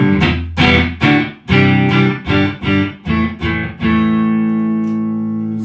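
Loud guitar notes are struck in a quick rhythmic run, each smeared by a fast Boss DD-2 digital delay set to its shortest time. The final chord rings out and slowly fades.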